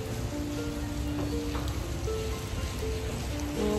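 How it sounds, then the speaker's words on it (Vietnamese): Steady rain falls outside a hotel, a dense even hiss of drops on hard surfaces that continues without pause, with a faint tonal hum beneath it. "Mưa quá, mưa luôn, phải đợi"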